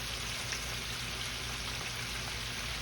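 Spicy buffalo shrimp frying in hot oil, a steady, dense crackling sizzle with fine popping, moderately quiet and continuous with no voices.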